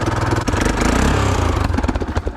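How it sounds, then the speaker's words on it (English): A Yamaha Grizzly ATV engine revs and sputters loudly and unevenly, its rough rattling drone straining and faltering close by. "That engine is not happy."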